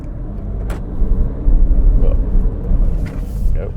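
A medium SUV with front wheels on off-road test rollers accelerates, its engine giving a steady, loud rumbling drone that swells and holds for a few seconds with no talk.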